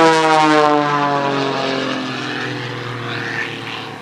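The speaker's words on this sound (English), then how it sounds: "Look at him flip the airplane over." An aerobatic propeller airplane at an airshow roars close by with a strong droning engine hum, its pitch sliding downward as it banks, flips and pulls away, slowly fading.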